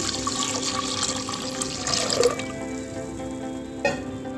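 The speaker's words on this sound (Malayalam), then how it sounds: "ആ വെള്ളം ചേർത്ത് കൊടുക്കാം" Measured water poured into a pressure cooker holding broken wheat for payasam, a steady close splashing stream over a constant hum, ending with a brief clink.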